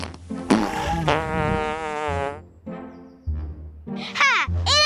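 A fart box toy lets out several long, buzzy, wavering fart noises in a row, loud and close, with pitch bending up and down between blasts.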